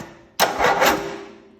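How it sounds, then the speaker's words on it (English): A 16 hp two-cylinder boxer engine on an LGT 1610 lawn tractor cranks over once in a brief mechanical whir that fades out without catching, heard alone and close. "So this is just like the flywheel turns now."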